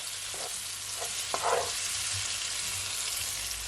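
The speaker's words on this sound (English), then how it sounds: "Give it a stir." Herbs being stirred in a sauteing pan for Jamaican-style chicken and rice, a soft continuous sizzle with a few scraping strokes of the spoon near the middle, close and fairly quiet.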